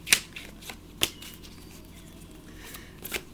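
Tarot cards are shuffled up close in quick, crisp riffles, a handful of sharp papery bursts with soft card slides between them in a quiet room.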